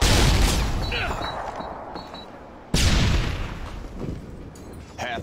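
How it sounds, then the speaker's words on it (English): A stun grenade goes off in the Strike Search & Destroy shooter, a sudden loud blast that cuts through dense gunfire and a ringing tone, with gameplay noise continuing around it. "Throwing a stun grenade!"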